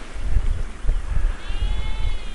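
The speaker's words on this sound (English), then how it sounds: "The sheep are obviously always here." Sheep grazing on an open upland hillside bleat briefly at moderate distance, a couple of wavering calls over gusty wind rumble on the microphone.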